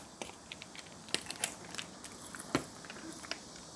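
A dessert is bitten and chewed up close, soft crunchy crackles and bites in an irregular rhythm, quiet and without talking.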